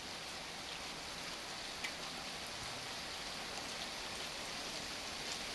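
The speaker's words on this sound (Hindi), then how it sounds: "यहाँ पर लग गई है बारिश" Heavy rain falls steadily on a mountain road trip from Mukteshwar to Almora in Uttarakhand, an even, quiet wash of hiss with no pauses.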